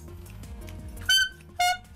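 A cheap Chinese-made vehicle horn, compared to a pedicab horn, gives two short, loud, thin toots about half a second apart over a low background hum.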